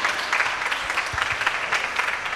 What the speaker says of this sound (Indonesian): tepuk tangan buat teman-teman kita.